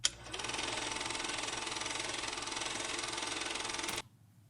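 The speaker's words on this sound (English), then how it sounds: "projector running" A steady mechanical whirring and rapid clattering of an 8mm film projector runs evenly for about four seconds, then cuts off abruptly into near silence.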